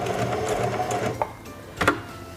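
A Singer 4411 heavy-duty sewing machine stitches in reverse, giving a fast, steady mechanical whirring hum with a couple of brief clicks near the end.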